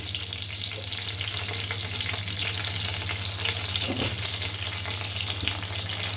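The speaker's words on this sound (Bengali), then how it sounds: "দিয়ে দিলাম দুটো তেজপাতা, কয়েকটা গোটা জিরে ফোড়ন" Two bay leaves and whole cumin seeds sizzle in hot oil at the start of cooking a country chicken curry, a steady close crackling hiss over a low hum, with a couple of soft knocks.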